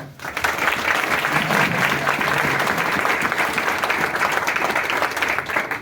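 An audience at a Christmas celebration claps for the district collector, a dense, sustained round of applause close by that swells quickly and holds steady, with faint voices beneath.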